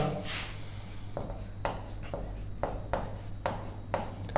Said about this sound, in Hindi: मैं यहाँ पर लिख दे रहा हूँ मनसेहरा